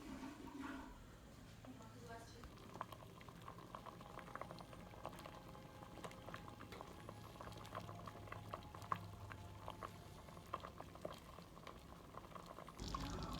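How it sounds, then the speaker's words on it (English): Cream and mustard sauce simmering and reducing in a pot with rabbit, giving a steady faint bubbling and spluttering throughout with occasional soft clinks. "I've reduced the sauce down by about a third. It's getting pretty thick."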